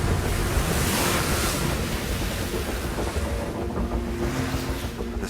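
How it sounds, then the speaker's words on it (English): Ocean waves churned by strong, relentless wind, a dense continuous roar of surf with heavy wind buffeting, loud and unbroken throughout. "The relentless wind drives the seawater below."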